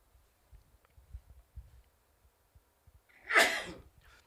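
A single sharp sneeze bursts out near the end after quiet breathing and faint rustling, close and fairly loud against an otherwise hushed background.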